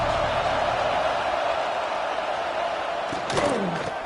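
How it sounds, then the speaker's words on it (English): A big football stadium crowd at a Nebraska versus Ohio State game roars in a broad, steady wash of massed voices, loud and sustained, with a brief clatter near the end. "This crowd ready to make its presence known."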